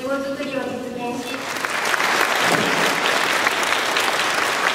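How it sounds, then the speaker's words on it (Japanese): A voice speaks briefly before a crowd at a prefectural government office breaks into loud, sustained applause that swells and holds steady to the end. "盛大な拍手"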